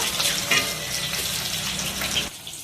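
Fish fillets fry in a hot pan with a steady, dense sizzle and crackle at close range, a brief louder spurt partway through, then the frying drops away sharply near the end; no one speaks.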